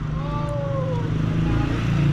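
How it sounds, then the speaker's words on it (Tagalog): A motorcycle engine hums nearby in a steady low drone, with a faint rising whine passing over it; no clear revving bursts, just a continuous idle-like tone. "Ah, yung motor na."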